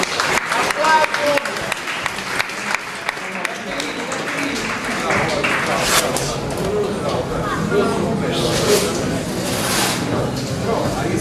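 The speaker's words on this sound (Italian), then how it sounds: "Applauso." Crowd at a boxing tournament bout applauds after the fight, a sustained patter of clapping mixed with voices and hall noise, loud and close, rising and thinning over about ten seconds.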